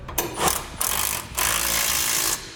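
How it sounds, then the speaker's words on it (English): A ratchet with a 1 1/8 inch socket tightens 3/4 inch bolts on a fifth wheel trailer hitch being installed in a 2008 Ford F-450, loud close clicking in three quick bursts, the last one longest. "Now we'll tighten up our 3/4 inch bolts using a 1 1/8 socket"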